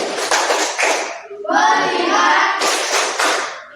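Rhythmic hand clapping in a classroom 'tepuk fokus' clapping game, bursts of claps before and after a stretch of group chanting, with children's voices heard throughout.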